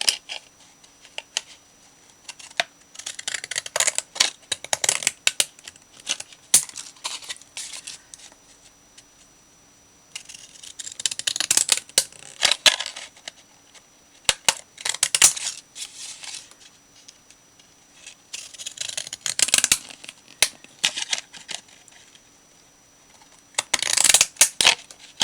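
Scissors trim the edge of a paper Christmas card, giving crisp, close snipping in short clustered bursts separated by brief quiet pauses.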